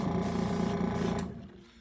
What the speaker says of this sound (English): Now we're going to turn the airbrush down